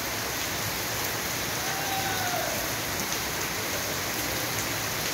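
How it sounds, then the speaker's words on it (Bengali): Heavy monsoon rain pouring steadily in Uttar Pradesh, a dense continuous hiss of drops on surfaces, loud and unbroken throughout with no voices. "এটা ইউপির বৃষ্টি"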